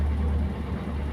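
Mitsubishi Colt T12ss engine running hot at a raised idle around 1,600 RPM, a steady low rumble held close and even throughout, with no voices.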